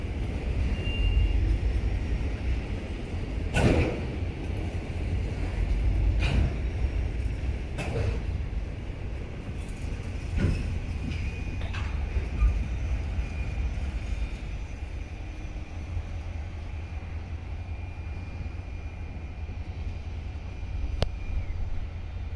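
A low, steady rumble of a train rolling past, with occasional sharp clanks and knocks over the continuous roar, no voices.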